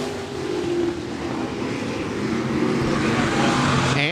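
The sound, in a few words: stock cars racing on a speedway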